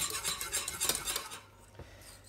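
Quiet rapid metallic whisking of pastry cream in a saucepan, scraping strokes that fade out partway, followed by a few soft clinks.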